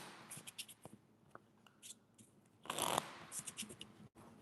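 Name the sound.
shuffling playing cards for blackjack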